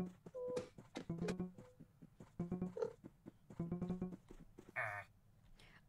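Sheep in the Minecraft Hypixel Super Sheep game bleat in a string of short, close, nasal calls, several in quick bursts with brief pauses between them, and no voice over them.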